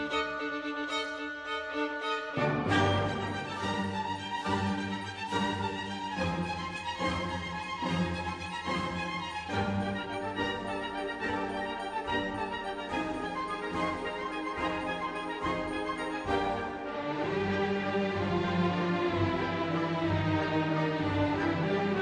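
Orchestral passage from Saint-Saëns' Danse Macabre: a solo violin with its two top strings retuned plays harsh, repeated double-stop chords over an orchestra, with rhythmic accented strokes and a fuller sustained ensemble section toward the end.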